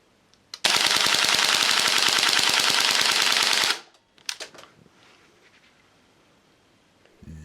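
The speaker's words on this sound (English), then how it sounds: "it would be rude if I didn't empty the mag" A GBLS DAS M4A1 gel blaster empties its magazine in one rapid, loud full-auto burst of about three seconds, followed by a few faint clicks and quiet handling sounds.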